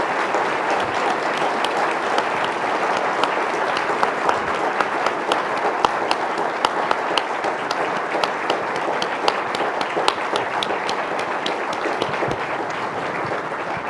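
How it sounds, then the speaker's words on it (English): An audience claps steadily and warmly after a talk by Henry Kissinger, dense applause lasting throughout at an even level, with no voices rising above it. "Would you please join me with your applause in saying thank you to Dr."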